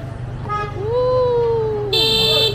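A car horn sounds in a sustained honk on a Hanoi street, with a second horn joining near the end over traffic rumble.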